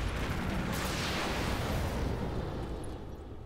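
A mech firing all its weapons at once in the RogueTech battle game: a dense, roaring barrage of booming blasts that holds loud for about three seconds and then begins to fade.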